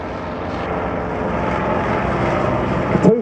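Two FE2B vintage World War I biplanes drone past at an air show, a loud steady rumble of propeller engines holding continuously, with a brief louder thump near the end.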